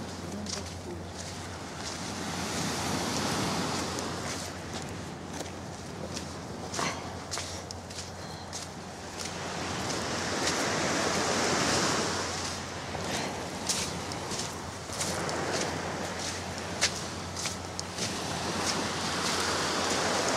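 Sea waves wash steadily onto a beach in Antalya, Turkey, a continuous rolling surf with swells rising and easing, and what sound like footsteps nearby.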